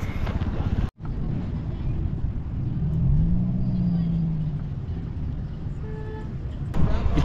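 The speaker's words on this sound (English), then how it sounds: "like that lorry coming over there. It's passing." A lorry passes on a road through a Kenyan field, a low engine rumble that swells and fades over a few seconds against an outdoor background.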